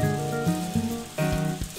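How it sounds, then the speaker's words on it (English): Rain falls steadily in the Harvest Moon farming video game, a constant hiss running beneath layered game music tones. "Girl, get out of the rain. Your ladybug hat can't protect you from the rain."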